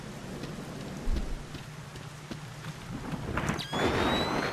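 Rain and thunder in the video game Splinter Cell Pandora Tomorrow, steady rainfall with a low rumble early on and a louder crack of thunder near the end, fairly quiet overall.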